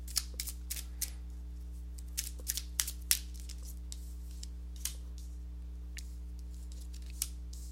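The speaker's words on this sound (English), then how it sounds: "let me go ahead and give these cards a shuffle" Tarot cards being shuffled by hand, a series of soft, irregular riffling snaps and flicks, close and fairly quiet over a steady low hum, no talking.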